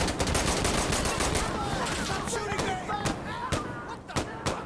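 M249 light machine gun in Insurgency Sandstorm firing loud sustained automatic bursts with rapid cracks, a few separate single shots near the end, with voices over the gunfire.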